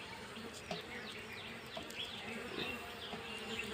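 A swarm of honeybees drones around a hive as honey is harvested, a steady, close buzzing with individual insects swooping past, all without speech.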